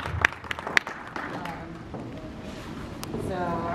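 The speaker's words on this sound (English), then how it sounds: "we can clap a little bit" A VidCon 2019 panel audience gives a handful of scattered, sharp claps at the start. The claps quickly die out into a low murmur of voices and room noise.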